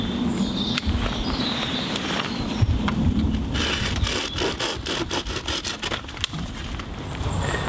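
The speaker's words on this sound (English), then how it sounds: "so what we'll do is we'll cut it off and have a look and see if it's any good." A thin plant shoot is sawn or cut off by hand outdoors, giving a steady rasping, rubbing noise with quick scraping strokes speeding up toward the end, close and moderately loud.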